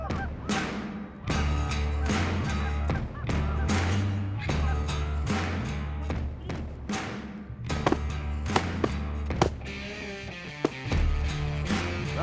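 Geese honk in flight during a winter goose hunt in a blizzard, a loud, dense chorus of overlapping calls over wind noise, with thumps and a faint voice.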